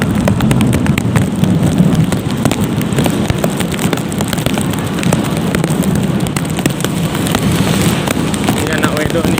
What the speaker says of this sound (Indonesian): Ya hujan-hujan nih.